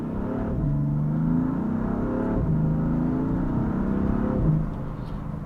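A BMW car engine revs up under hard acceleration, rising in pitch through two gear changes as a loud, steady interior drone.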